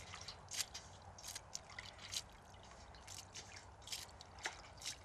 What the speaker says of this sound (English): Pour the rest of the valerian into this bucket.